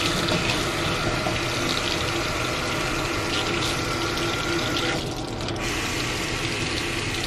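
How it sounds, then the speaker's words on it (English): Water runs steadily from a sink tap in a resort suite bathroom, a continuous broadband hiss that holds level throughout with a slight dip near the end. "Turn on the sink."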